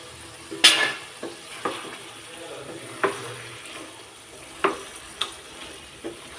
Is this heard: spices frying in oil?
yes